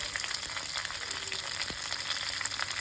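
Cumin seeds and lentils frying in hot oil for a variety rice dish, a steady close crackling sizzle with faint popping throughout, no voices.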